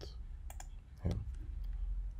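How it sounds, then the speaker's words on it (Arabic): A computer mouse clicks while a brush tool is used in image editing software, producing a few faint, close clicks over a low background hum with no talking. "وبجيب الفرشة البراش تول وادوس كليك مثلا من هنا لحد هنا"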